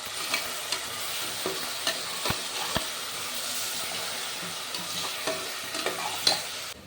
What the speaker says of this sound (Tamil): வெங்காயம் தக்காளி இஞ்சி பூண்டு பேஸ்ட் எல்லாம் போட்டு வதக்கியாச்சு.